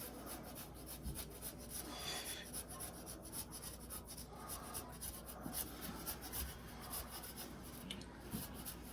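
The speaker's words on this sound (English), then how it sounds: "You can buy it already grated, but I like to grate my own." A block of pecorino romano cheese is grated by hand on a grater, with quiet, repeated rasping strokes in an uneven rhythm close to the mic.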